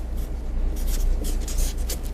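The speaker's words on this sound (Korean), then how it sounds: "제가 이 글자를 한번 써볼게요." A Chinese character is written by hand, with soft scratchy strokes heard close by over a low steady hum.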